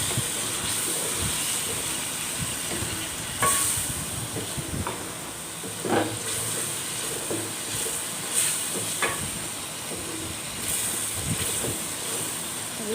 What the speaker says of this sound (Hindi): अब इसमें हम डालेंगे उबले हुए चने। इसको अच्छी तरह से भून लेंगे इसमें।